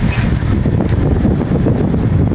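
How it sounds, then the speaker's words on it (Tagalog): Strong wind roars and buffets the microphone loudly and steadily throughout, a thick low rumble with no other clear sounds. "At malakas po yung simoy ng hangin."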